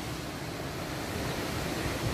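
A river flows beside a trekking trail through coffee gardens near Curug Putri Kencana in Sentul, a steady broadband rush that stays even and moderately loud throughout, with no talk.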